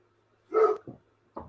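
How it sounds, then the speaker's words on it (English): A dog barks outside, one loud bark followed by two shorter, softer ones, fairly close and alone against a quiet background. "My dog's out there barking at"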